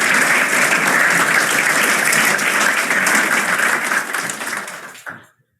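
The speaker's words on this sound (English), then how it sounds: "That was a qualified round of applause" An audience applauds at the end of a talk on drone tree planting, with dense, sustained clapping that gradually thins over the last second before stopping abruptly.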